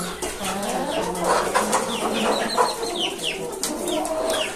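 Several chickens cluck and murmur close by in a steady, overlapping chatter, with short rising calls breaking through now and then.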